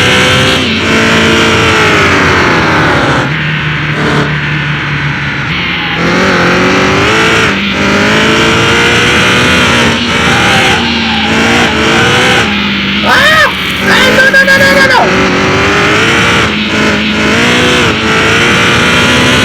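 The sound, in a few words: 1200HP Viper or 1230HP C8 Zora accelerating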